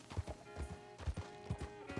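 A horse walks along in Red Dead Redemption 2 near Strawberry, its hooves giving a quiet, steady clip-clop of evenly spaced thuds throughout.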